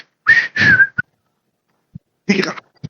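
A person whistles a short two-note tune imitating a father's habitual whistle, then a brief breathy bit and a faint click, close and alone in a quiet room.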